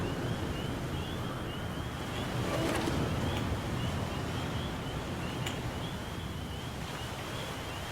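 Steady rain in the video game The Flame in the Flood patters as a constant, even wash of noise, with a faint high ringing tone running underneath.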